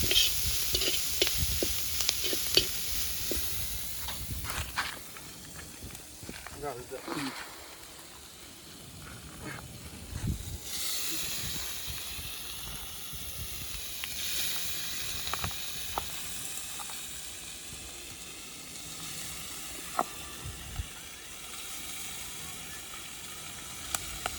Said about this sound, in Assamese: গাহৰিটো অকণমান ভাজি লওঁ